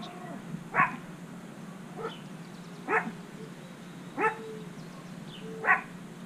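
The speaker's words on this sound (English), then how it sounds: "Don't mind my chihuahua barking in the background." Small chihuahua barking in the background indoors, four or five sharp separate yaps spaced about a second apart, fairly faint under a low room hum.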